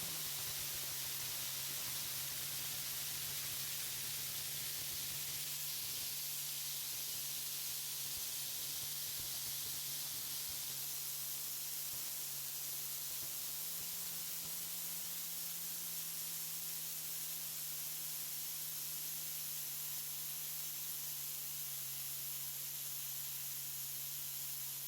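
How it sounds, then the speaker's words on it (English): Steady, unbroken rush of air from an air compressor feeding a handheld air tool, a constant broadband hiss holding evenly for the whole stretch with a low hum underneath and no talking. "here's an example of why I love this air compressor, and you're gonna see that you can hold consistent airflow"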